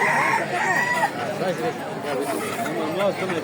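A rooster crows at a busy poultry market at Fatullah, its drawn-out call standing out near the start over steady clucking, chatter and crowd noise that run throughout.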